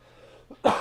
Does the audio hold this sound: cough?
yes